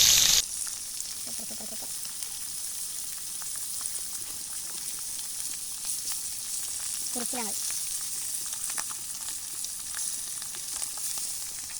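Fish pieces fry in oil over an outdoor fire, a constant close sizzle and fine crackle running throughout, with a couple of brief clinks near the start and middle.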